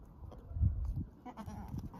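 A goat kid bleats briefly and close by while being held to suckle from a nanny goat, with a few shorter cries and shuffling noise following.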